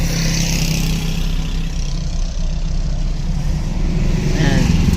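Steady road traffic on a bridge heading toward Rob, with car and motorcycle engines droning continuously and close, and a vehicle revving slightly louder near the end.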